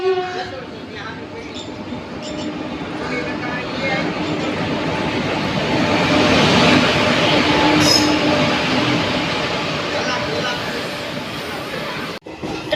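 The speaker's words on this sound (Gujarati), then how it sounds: "હલો ટ્રેન આવી ગઈ છે અમારી." A train pulls into a station, its broad rumble and wheel noise swelling louder toward the middle and then easing, with faint voices and platform bustle around it.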